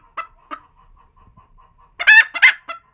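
A Cochin rooster and hen cluck near and loud in a farmyard: two short clucks, a faint repeated soft clucking, then a burst of loud harsh calls and one last cluck.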